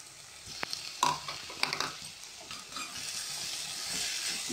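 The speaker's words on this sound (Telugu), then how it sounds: "ఒకసారి మూవ్ చేసుకుని చూడండి, ఇలా ఇలా వేగుతుందన్నమాట." Potato pieces for samosa filling frying in a pan, a quiet steady sizzle that builds over a few seconds, with several scraping stirs and light utensil knocks early on.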